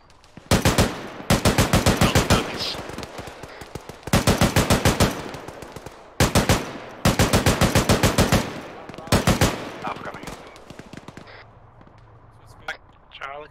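Bursts of vehicle-mounted machine gun fire in the combat game ArmA 3, several long rapid volleys of loud, close shots separated by brief pauses, with a voice talking faintly at the end.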